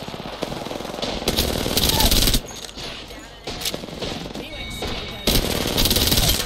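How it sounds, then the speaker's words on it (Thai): Rapid automatic gunfire from a battle royale video game crackles in dense, loud bursts, pausing briefly between volleys, with a voice talking faintly underneath. "เขายิงกูวะ"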